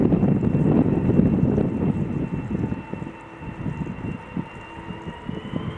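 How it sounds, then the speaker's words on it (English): A KLM Airbus A330 on its departure roll from the Polderbaan runway at Amsterdam Schiphol, a loud, broad engine roar heard from fairly near, buffeted by wind noise and gradually easing, with no voices. "now we have KLM flight 765 lined up at Polderbaan, ready to go to Aruba"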